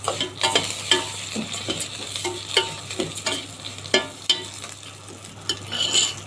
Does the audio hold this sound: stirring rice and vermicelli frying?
yes